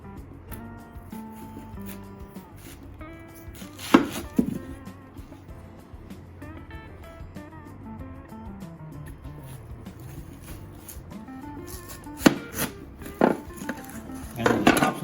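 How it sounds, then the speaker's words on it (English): A knife cuts an onion into thick slices for bacon-wrapped onion rings. A few sharp cutting thuds sound on a board over a quiet, humming kitchen background. "We do have to cut them pretty thick."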